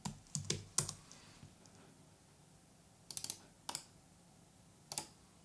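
Clicky keystrokes on a computer keyboard at a Mac Mini, short bursts of taps separated by pauses, quiet and close.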